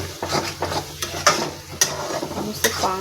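A spatula stirs egg bhurji in a hot pan with a light sizzle underneath, giving a few sharp scrapes and knocks against the metal.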